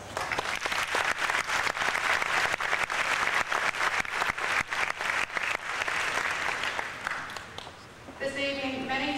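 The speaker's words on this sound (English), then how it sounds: "We owe you a big round of applause." Loud, dense applause from a high school ceremony audience fills the hall for about eight seconds, then thins out as a few voices and a sustained tone come in at the end.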